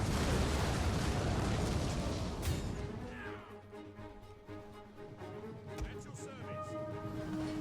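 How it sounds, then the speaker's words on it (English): Onager catapults firing in the game Total War: Attila, heavy booming launches and impacts rolling through a dense battle din, loudest at the start, with a sharp crack near the middle. "my onagers are just firing at will right now"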